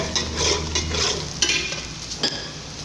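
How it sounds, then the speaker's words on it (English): Thyme and curry powder stirred into a Nigerian meat pie filling in a pan, with a soft continuous sizzle and a few sharper scrapes of the spoon, close and steady. "You add the thyme, the curry, and then you stir."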